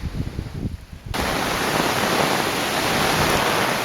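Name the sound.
heavy rain and wind in storm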